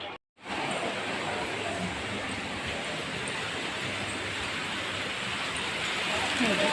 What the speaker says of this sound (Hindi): होने लग गई झमाझम बारिश। अभी तो कम हो रही थी, अभी ये देखो बारिश।